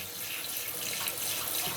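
Water running from a shower head into a sink, fed by an Atmor Basic 5 instant water heater, a continuous close rushing hiss with no speech.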